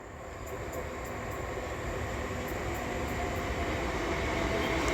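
A train arriving at Snodland station on the line toward Paddock Wood via Maidstone West gives a steady, broad rumble that swells slightly as it draws nearer, with no voices.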